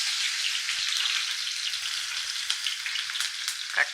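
Onion hitting hot oil in a pan for a ridge gourd and sea prawn curry: a dense, continuous hiss of frying close up, steady and fairly loud, with a few sharp crackles near the end and no voices.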